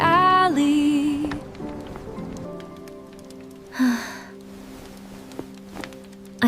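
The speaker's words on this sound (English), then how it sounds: "I can hear the rain on the roof." Rain patters on a house roof on a quiet evening as a soft, faint hiss beneath gentle tonal sounds and a few light knocks, with no speech.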